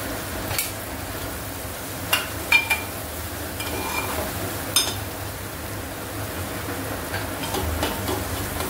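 Bombil, Bombay duck, frying in a pan for a traditional bombil batata dish, giving a steady low sizzle with occasional sharp clinks and scrapes of a utensil stirring against the pan, no voices.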